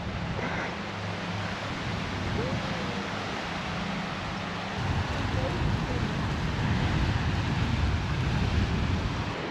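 Wind blows strongly over open water near a boat in Thailand, a constant close roar of buffeting wind noise with waves washing underneath, growing somewhat heavier in the second half.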